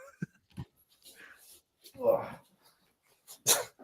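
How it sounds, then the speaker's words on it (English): Several dogs in a home bark in a few short, scattered bursts amid podcast conversation, the barks fairly quiet and mixed with talking voices. "Oh gosh, these dogs, man."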